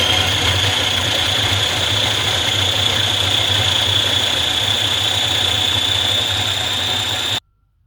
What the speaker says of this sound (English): I'm starting by processing the onions first.